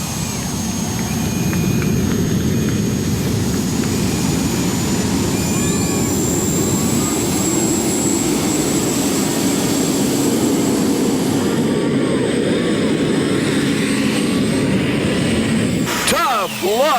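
Art Arfons' Green Monster modified tractor from Akron, Ohio, roaring through a pull at a 1996 tractor-pulling event in Bowling Green, a loud continuous turbine-like engine howl sustained throughout, then cutting abruptly near the end.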